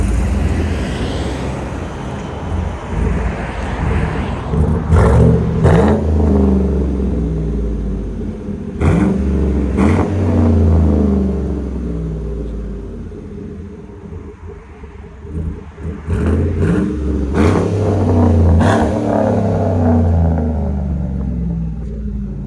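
A 2015 Chevy Tahoe LTZ with a 5.3L V8 and straight pipes revs repeatedly, deep loud rumbling swells rising and falling, punctuated by sharp blips, close to the exhaust.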